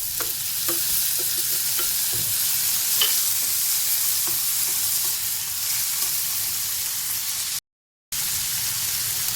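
Onion and tomato frying in a pan for a Konkani-style vegetable dish, a steady close sizzle with soft scraping stirs, broken by a brief silent gap near the end.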